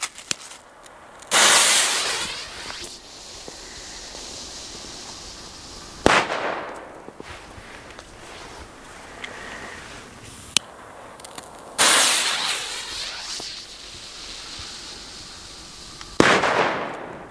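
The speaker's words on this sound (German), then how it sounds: "dann haben wir jetzt hier noch die Böller von Weco" Loud Weco firecracker bangs go off in separate bursts on New Year's Eve in snow, each a sharp crack followed by crackling and hiss, with quiet stretches between them outdoors.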